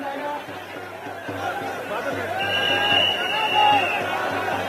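A large crowd of Maratha protesters gathers for a march toward Mumbai, a dense outdoor babble of many voices with scattered shouts, steady and building slightly louder.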